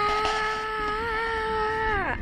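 Theme park riders screaming as a roller coaster drops, one sustained high wailing scream that holds steady and then bends downward and cuts off at the end.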